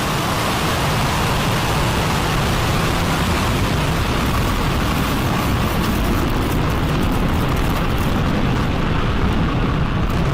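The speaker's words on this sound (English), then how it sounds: "And we have liftoff of Spectrum." Spectrum, a German private launch vehicle, lifts off in a steady, loud, broadband roar that holds without a break from start to finish, with no voices over it.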